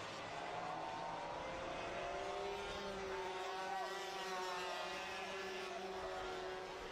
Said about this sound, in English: It's got a noisy exhaust on the 237